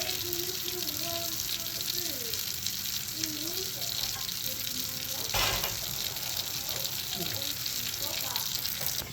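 Kitchen tap running into a sink to wash a skillet, a continuous hiss of flowing water under a voice, with a brief louder splash or clatter midway.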